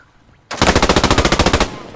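Sustained machine gun burst in the World War II shooter game Post Scriptum, a loud, rapid, evenly spaced string of about twenty shots lasting just over a second, with no voices.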